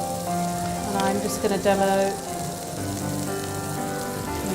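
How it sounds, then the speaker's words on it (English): Lamb kebabs sizzle steadily in a hot pan during a live cookery theatre demonstration, a continuous crackling hiss running throughout while someone talks briefly over it. "Oh, nice sizzle. Nice sizzle. So you need a hot pan."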